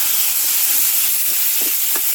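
Potato, cauliflower and flat beans sizzle in hot oil in a pan, a steady close hiss with faint crackles and no talking.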